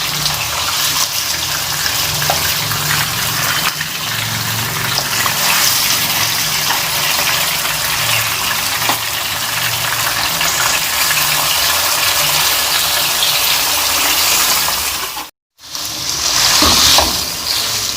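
Chicken pieces frying in a pot with curry leaves for white korma, giving a loud, steady hiss and sizzle that runs unbroken for a long stretch, with one brief dropout near the end.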